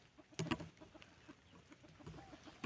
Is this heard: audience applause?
no